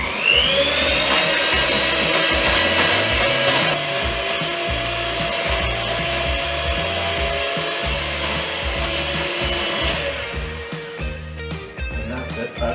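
A quick mix of espresso caramel ice cream base gives a steady, loud churning and grinding whir that runs unbroken for the whole stretch, with a faint rising whine at the start and a low rhythmic thumping underneath.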